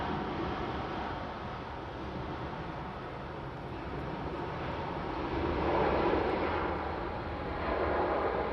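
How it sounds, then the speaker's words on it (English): An Airbus A350 jet airliner departing toward Singapore, a steady distant turbine roar that swells slightly midway and stays broad and even, with no voices. "Airlines A350 heading back to Singapore"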